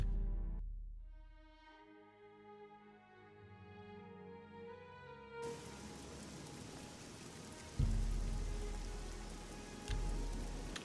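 Rain falling in the video game Oblivion, a steady soft wash that builds partway through over quiet musical tones, with a couple of brief thumps near the end.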